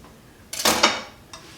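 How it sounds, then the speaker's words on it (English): Can of beans being opened for black bean brownies, with a sharp metallic clatter and scrape from the lid, then a brief second click a moment later, close and fairly loud with no talking. "let's just open our can"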